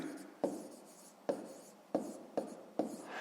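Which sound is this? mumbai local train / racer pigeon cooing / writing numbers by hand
writing numbers by hand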